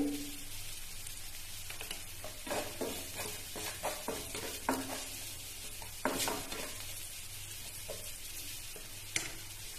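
Asafoetida and salt go into a pan of vegetables that sizzles steadily, with stirring scrapes and small clicks on top of the frying hiss, close and without talk.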